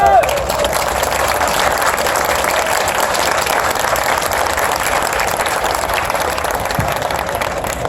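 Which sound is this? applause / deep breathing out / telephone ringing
applause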